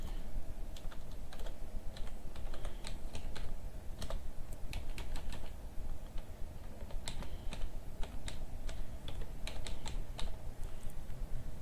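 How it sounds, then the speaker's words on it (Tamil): Continuous clicking of a computer keyboard typing text into Photoshop, with rapid, uneven bursts of key taps close to the mic, going on for over ten seconds over a faint background hum, no voices. "இங்கே டைப் பண்ணலாம்."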